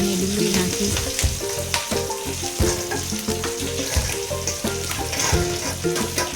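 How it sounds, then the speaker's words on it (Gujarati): Chopped green chillies and onions sizzle steadily in oil in a pan for tava pulao, a continuous close frying hiss with stirring clatter over background music. "હવે મરચાં અને જે ઝીણું સમાર્યું છે મરચાં અને ડુંગળી નાખી."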